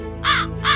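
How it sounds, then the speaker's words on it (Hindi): A crow caws twice in quick succession, each caw loud, harsh and close by, with no other sounds around it. "आपके आंगन में बार बार एक कौवा आकर बोल रहा है।"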